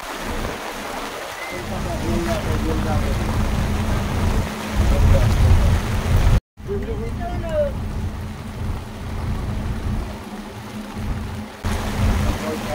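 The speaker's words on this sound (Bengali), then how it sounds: "প্রচন্ড বৃষ্টি শুরু হয়েছে। বৃষ্টি এত হচ্ছে" Heavy rain pours down on a launch in the Sundarbans forest, a steady, dense hiss with a low rumbling drone beneath it that breaks off for a moment midway and then returns.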